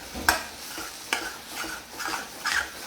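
Chana masala roasting in a pan with cumin, garam masala and amchur, stirred in a few distinct scraping strokes over a faint sizzle. There is no speech.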